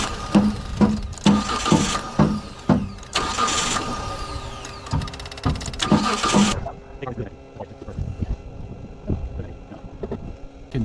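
A Kia van's engine is cranked by its starter in repeated whirring, chugging bursts, loud and close with wind buffeting the microphone, before the cranking stops and quieter rustling follows.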